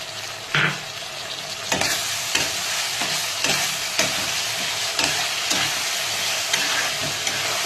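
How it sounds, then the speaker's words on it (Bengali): Ginger garlic paste fries with softened, lightly browned onions in a pan, a steady close sizzle broken by regular scraping stirs of a spoon. "এখন আমি এখানে আদা রসুনের পেস্টটা দিয়ে দিলাম।"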